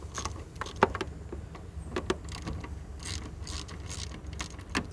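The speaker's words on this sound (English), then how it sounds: "These are 8mm" A ratchet removes 8mm bolts from the fuel pump of a Nissan Sentra, giving scattered metallic clicks and short ratcheting bursts over a low background hum.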